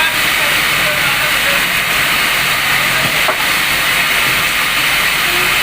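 Machine cutting marble in a marble factory, a steady loud hiss-like grinding roar running throughout with little change.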